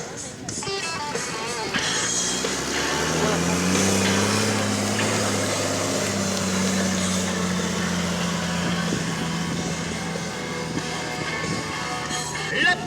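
A 600-horsepower V8 stunt car engine roars steadily at a stunt show, its deep rumble rising in pitch and holding loud throughout, with crowd noise and chatter in the background.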